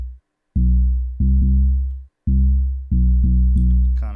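Trap 808 bass made in FL Studio, pitched up an octave, playing a choppy rhythmic pattern of booming, buzzy low notes with short gaps between them, loud and close, ending with a brief hint of a voice.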